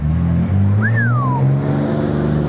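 A red Nissan Skyline GT-R R32 idles and revs at a JDM car meet, a continuous engine hum with a short rising whine over it, near and steady beneath crowd noise.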